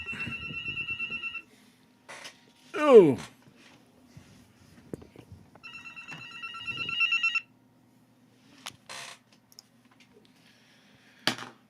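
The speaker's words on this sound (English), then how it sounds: "you hear my phone ringing?" A house landline phone rings in a room, bursts of an electronic trill repeating with pauses, fairly close, while a person makes brief sounds and small noises between rings.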